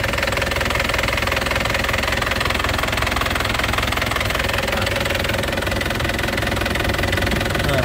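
A used white 2014 GT car idles, its engine running in a steady, close mechanical hum with a faint knocking texture, unchanging and alone with no voices.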